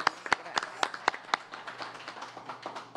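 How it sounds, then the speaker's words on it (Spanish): An audience at a Mexico City legislative assembly session gives brief applause, a handful of distinct claps in a steady rhythm that soon thins into softer, scattered clapping. "Un aplauso para todos."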